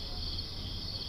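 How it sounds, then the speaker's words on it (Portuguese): Crickets chirp in a steady, continuous high trill through the whole clip, fairly faint, over a low background hum, with no voices. "grilos que cantavam só à noite."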